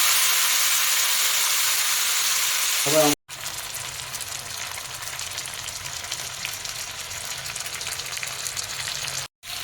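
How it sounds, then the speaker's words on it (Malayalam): Masala-coated chicken frying in a pan over a medium flame for Afghani chicken, a steady close sizzle and hiss that runs through the clip, broken by a brief cut at about three seconds and a short dropout near the end. "ഫ്രൈ ചെയ്ത് എടുക്കുക. ഒരു മീഡിയം ഫ്ലെയിമിൽ വെച്ചാൽ മതി"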